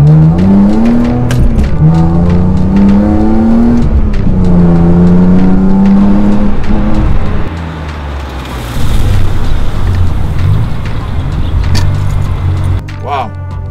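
A BMW E46 M3 CSL engine revs and accelerates loudly, pitch climbing and falling through gear changes, with a voice talking over it.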